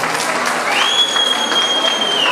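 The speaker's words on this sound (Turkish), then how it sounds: "Bir alkış Ahmet'e ama." A crowd at a circumcision celebration applauds loudly and continuously, dense clapping filling the room, with a faint high whistle-like tone running through part of it.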